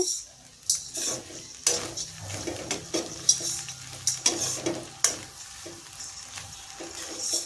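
A spoon stirs and scrapes a drumstick leaf and egg stir-fry in a pan while it sizzles steadily, with repeated metallic clinks and knocks against the pan, up close.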